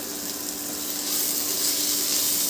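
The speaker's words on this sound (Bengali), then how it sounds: "টমেটোটা দিয়েও ভালো করে আমি পেঁয়াজের সাথে ভেজে নেব।" Chopped tomato and onion fry in a pan for masoor dal, making a continuous bright sizzle that builds a little louder and holds steady, with no talking.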